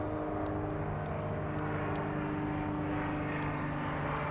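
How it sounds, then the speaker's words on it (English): A propeller airplane drones steadily overhead at a truck campsite, a continuous low engine hum that holds at the same level throughout with no talking. "Or a plane. It's a plane."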